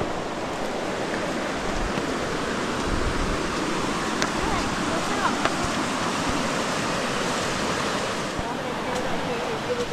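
A waterfall on a forest hiking loop, heard as a steady, broad rushing roar of falling water that continues evenly throughout with no pauses.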